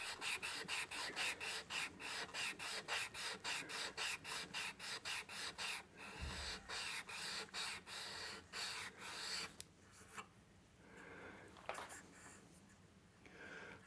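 Close hand sanding of a low-density Douglas fir archtop guitar headstock, rhythmic back-and-forth rasping strokes in an even, quick series, then slower, irregular scrubbing, fairly faint overall.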